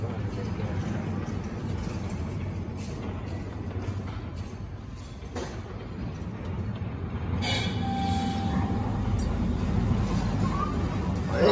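A subway train rumbles into Alewife station in Cambridge, Massachusetts, growing louder, with a brief metallic wheel squeal and crowd murmur in the background.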